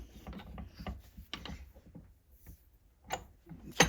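A hand reamer on a T-handle is turned through a bushing on a 1927 Ford TT, giving sparse, close metallic clicks and scrapes in irregular bursts with short pauses, no talk.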